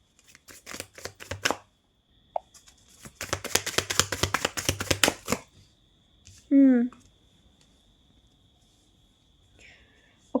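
Tarot cards are shuffled in two bursts of rapid, close flicking, one brief and one longer, followed by quiet and a short vocal sound.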